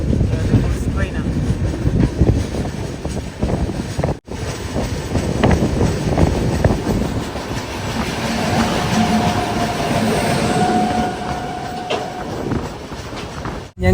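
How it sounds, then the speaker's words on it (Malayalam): A goods train running on the opposite track, heard from inside a moving sleeper-class express, a loud continuous rumble with rhythmic wheel clatter and a faint squeal, one sharp break partway through. "ഗുഡ്സ് ട്രെയിനാണ്."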